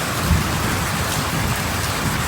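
Heavy rain falling steadily outdoors during a Deepavali evening, a loud dense wash of drops on surfaces with low rumbling underneath, continuous and close, no talking.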